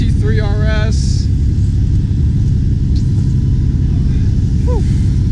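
A supercar engine, McLaren SLR among others, rumbles and revs nearby amid constant low roar, with people talking and exclaiming over it.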